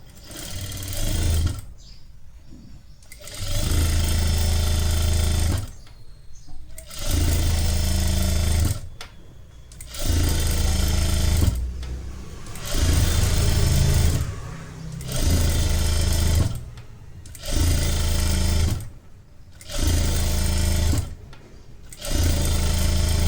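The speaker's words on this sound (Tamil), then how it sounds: "ஸ்ட்ரெயிட்டாக ஒரு ஸ்டிச் போட்டுக்கோங்க." A sewing machine stitching a straight seam along a folded edge of lehenga saree fabric, running in repeated bursts of a few seconds each, with short pauses between, close and loud.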